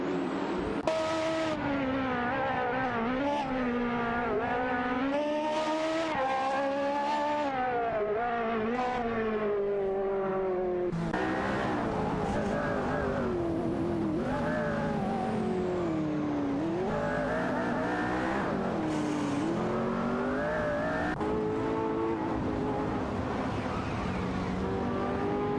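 Race cars in an AI racing video game roar past continuously, engines rising and falling in pitch as they accelerate and shift, loud and close throughout with no talk.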